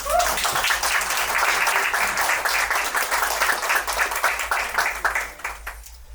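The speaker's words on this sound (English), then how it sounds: "Let's give him a round of applause." Steady, dense applause from an audience at a poetry show, honoring a poet; the clapping stays loud and even throughout, then thins and fades out in the final second.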